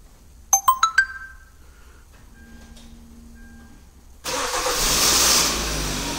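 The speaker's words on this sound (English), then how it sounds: "We're going to start our engine." A 2011-2016 Kia Sportage is started by a plug-and-play remote start after quick horn-like chirps and a faint whine, its engine catching abruptly and settling into a steady, fairly loud running rumble.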